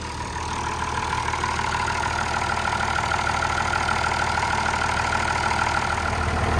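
A diesel tractor engine, a Perkins 6.354 in an Oliver 1850, idles steadily nearby once warm, a low, even rumble with a constant mechanical chug and no talking.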